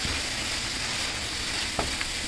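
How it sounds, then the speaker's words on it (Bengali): Fish frying steadily in a pan with turmeric, cumin powder, salt and a few bay leaves, a dense continuous sizzle with a couple of brief stirring clicks near the end. "মাছটা আরও ভালোভাবে আরেকটুখানি ভাজবো পাঁচ মিনিটের মতো"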